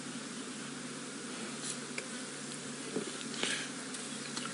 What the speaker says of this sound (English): Oh, look at that swarm of flies